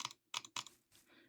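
Quad time clicking on a computer mouse, with two butterfly clicks per hit: crisp, close plastic clicks arrive in quick pairs and clusters separated by short silences, alone with no voice.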